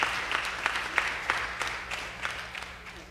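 A church congregation claps in praise during a Communion Sunday service, with several distinct, uneven claps over a low hum that fades slightly toward the end.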